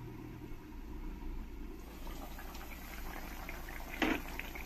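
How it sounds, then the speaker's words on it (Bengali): Egg curry gravy bubbling in a covered pan on the stove, a low steady simmering rumble with a soft hiss and scattered small pops, plus one brief louder burst near the end. "যতক্ষণ ঝোলটা ভালো করে না ফুটবে"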